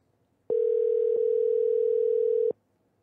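A steady telephone dial tone hums alone for about two seconds, loud and unbroken, with quiet room noise before and after.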